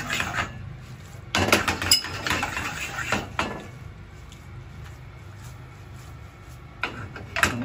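Cabbage and anchovy spaghetti is tossed in a metal frying pan, sending out bursts of clattering, scraping pan noise between quieter stretches, close and fairly loud, with no talk.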